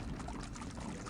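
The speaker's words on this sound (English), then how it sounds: "I always really liked how gross that sound effect is for the sludge just pouring down there" Thick sludge pouring down in the Rayman 2 video game, a faint, continuous gurgling wash of liquid with no talk over it.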